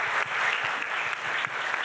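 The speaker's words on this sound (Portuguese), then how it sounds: "Júlio Pimentel, pediu uma salva de palmas do nosso professor aí." A literary festival audience claps for a professor, a short stretch of continuous, fairly loud applause from many hands with no talking over it.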